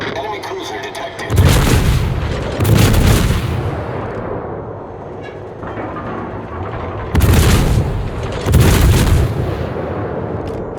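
Deep, booming naval gunfire from a Cleveland cruiser in World of Warships, heavy salvos at steady intervals with a rumbling decay between them, loud and close, with brief game voice callouts in between.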